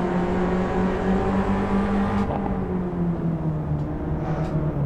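Car engine held in third gear in Assetto Corsa, a loud, continuous high-revving drone with a steady pitch that dips slightly toward the end.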